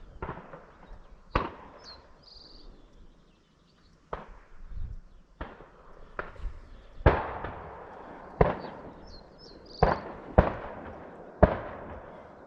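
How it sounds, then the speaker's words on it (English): Gunshots from a nearby shooting range crack out at irregular intervals, about a dozen sharp reports, some louder and closer-sounding than others, with no talk. "the shooting isn't all that far away. There's obviously some sort of range"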